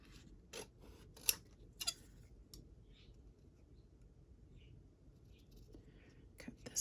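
Scissors snipping vellum paper during a papercraft session: a few short, crisp cuts in quick bursts, close and fairly quiet, separated by near-silence and faint rustling.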